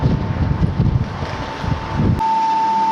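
Gusty wind buffets the microphone with low rumbling bursts, then abruptly drops away, leaving a steady tone.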